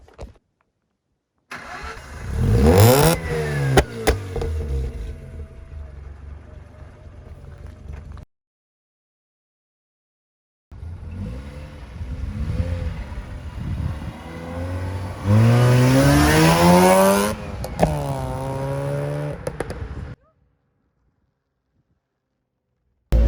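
A Mazda RX8 rotary engine with a homemade kit cranks and fires, idles, then revs hard through rising gear pulls while driving, loud and close, with pauses of silence between runs.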